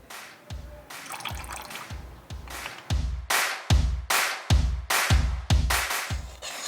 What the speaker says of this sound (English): so I'm going to add this hot water in